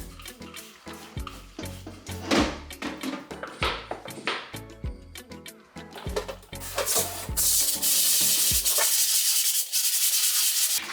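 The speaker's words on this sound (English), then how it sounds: "Now I'll just sanitize my board because I will be using the same board again." A cutting board is wiped down with a 3-in-1 kitchen cleaner, giving close scrubbing and rubbing strokes with knocks and scrapes, then ending in a steady spray-like hiss, with no speech.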